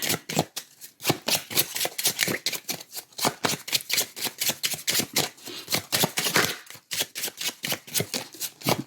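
Tarot cards shuffled in rapid, steady riffles, a dense run of crisp flicking clicks close to the ear, with no talking.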